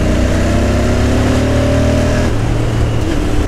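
A Royal Enfield Interceptor 650 motorcycle engine accelerates on the road, a loud steady growl whose pitch climbs through a gear before shifting and dropping, with wind rush and no speech.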